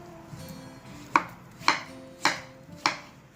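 A knife chops peeled snap melon (chibud) on a board in four crisp, evenly spaced strokes, close and clear with nothing else beneath.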